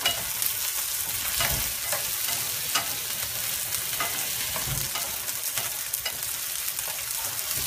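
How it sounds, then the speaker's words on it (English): Sausage fries in a pan with a loud, dense, continuous sizzle and crackle. Frequent stirring scrapes and pops sound close by. No one speaks. "I'm going to start cooking the sausage"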